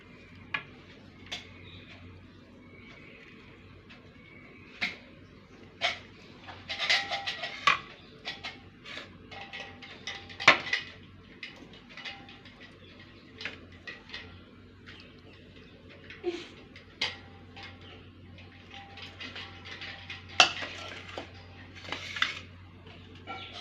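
Ground grated coconut is pressed down into a measuring cup with a spoon: sparse, quiet taps and clicks at irregular intervals over a faint background hum.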